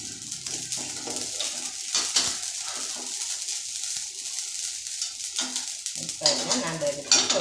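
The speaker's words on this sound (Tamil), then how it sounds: "கடுகு பொரியிற சத்தம் கேட்குதுங்களா? நல்லா கடுகு பொரியணும்." Mustard seeds spluttering in hot oil in a pan for a Tamil greens dish: soft sizzling with scattered crackles and pops, growing busier toward the end, with occasional faint utensil clinks.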